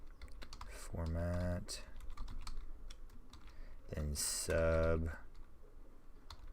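Quick clatter of computer keyboard typing in short bursts, with someone speaking briefly between the keystrokes.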